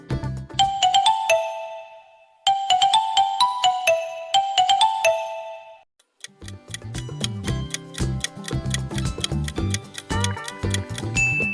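Lava mobile phone ringtone rings out loudly as a chiming bell melody played twice, followed by a busier, fast-ticking rhythmic passage with thumping low notes, all up close with no talking.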